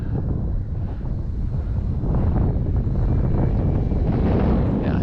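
Strong wind buffeting a microphone outdoors at an RC flying field where a ParkZone Sport Cub S2 is being flown, a loud, steady low rumble that gusts stronger partway through.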